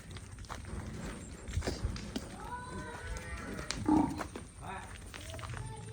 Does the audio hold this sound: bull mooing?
yes